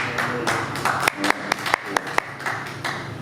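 A small open mic crowd at a bar claps in a thin, scattered way, with a handful of separate sharp claps spread over a few seconds above low room murmur.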